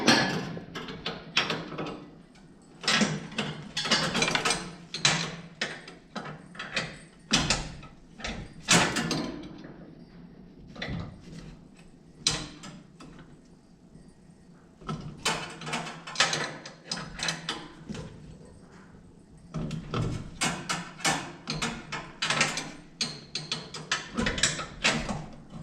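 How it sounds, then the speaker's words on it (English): A ratchet wrench turns bolts on a 1971 Dodge Challenger R/T during a power brake conversion, giving bursts of rapid clicking with pauses between them, fairly close and clear. "I think I need a shorter wrench for this one"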